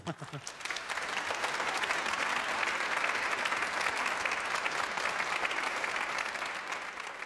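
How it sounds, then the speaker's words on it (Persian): Audience applause from a studio crowd at a televised religious show, steady and dense clapping rising quickly after a brief start and sustained throughout at full loudness. "تشویقش کنید"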